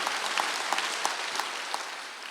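Applause from a church congregation during a Sunday worship service, a steady dense patter of many hands clapping with no talk over it.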